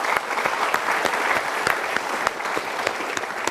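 Seated audience gives a round of dense, even applause, many hands clapping together at a constant level with a few sharper claps popping out.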